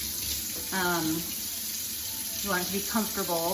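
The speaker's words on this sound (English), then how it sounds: "We're gonna start by getting the water, not hot, not cold," Tap water runs steadily to fill a bath for a small dog, a constant hiss beneath a person speaking throughout.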